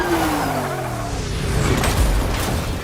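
A car skids with tire squeal in an action sequence, the screech sliding downward over engine roar and loud, dense rumbling, with a heavy impact-like thud near the end.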